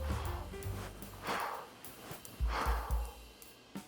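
A forceful huff breath used to clear phlegm from the throat, demonstrated by a respiratory clinic doctor. A couple of sharp, breathy exhalations rush out close to the microphone, separated by quieter breathing and faint low thumps.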